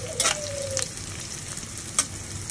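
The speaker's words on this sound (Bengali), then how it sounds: "আমি প্রথম তেল আর পেঁয়াজ ভেজে নিচ্ছি।" Onions frying in oil in a pan, a continuous close sizzle with a few sharp stirring clicks and scrapes, no voices over it.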